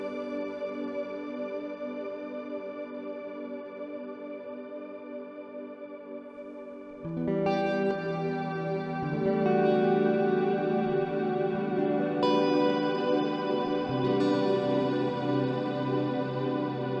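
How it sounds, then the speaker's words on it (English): Guitar through a Fender Marine Layer reverb pedal in shimmer mode with an octave-up pitch shift, sustained chords blooming into a bright, lush wash of shimmering upper octaves, swelling louder as new chords enter, with no voices. "Then special octave up, pitch shifter and delay after a reverb. So this is a shimmer then."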